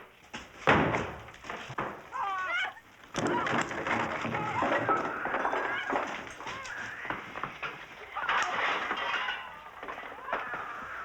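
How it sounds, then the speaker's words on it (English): A wooden door is broken down during a wartime building search: a sharp crack and heavy slam, then repeated splintering impacts and thuds amid shouting voices and commotion. "Go, break the door."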